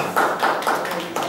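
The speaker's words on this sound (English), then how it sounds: "why don't we give him a round of applause?" A small classroom group gives a brief, patchy round of clapping in a few uneven bursts, close and moderately loud, with no talking over it.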